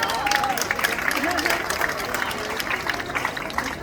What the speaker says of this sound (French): Voilà, applaudissez-la une nouvelle fois.